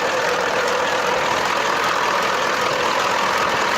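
Ural truck's turbocharged engine idles cold with an exhaust leak at one spot, giving a loud, steady, even hum and rumble with a faint knocking texture and no talk.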